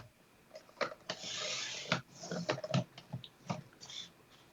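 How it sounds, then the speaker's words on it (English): A paper trimmer cuts through paper sheets in a run of short, close scraping and sliding strokes with small clicks, fairly quiet and with no talk. "you can see how easy it is to use the trimmer"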